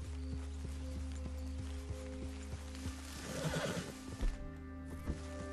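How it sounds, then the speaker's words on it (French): A horse in the video game Red Dead Redemption 2 lets out a neigh over steady hoofbeats and a low background drone, the whinny rising mid-clip before fading out. "Je sens que le cheval est un peu vénère,"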